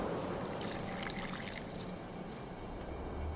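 Water poured into an alchemy flask in The Witcher 2: a soft liquid trickle with a couple of light drips for under two seconds, then fading into quiet ambient hiss.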